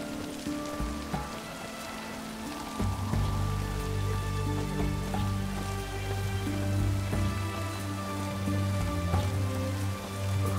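Steady rain falls in the Witcher 3 video game, a continuous wash of drops on surfaces lasting throughout, mixed under a tonal game soundtrack with no talking.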